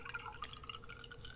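Coffee poured into a cup, a soft continuous liquid trickle with faint drips and splashes, quiet and close, with no talking.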